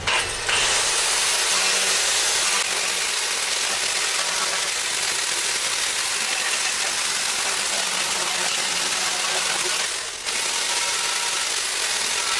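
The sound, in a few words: grinder sanding wooden surfboard urn with 40 grit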